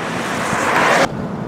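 Heavy flood waters of the Pea River rush along in the rain, a steady broad roar like surf or wind that cuts off abruptly near the end.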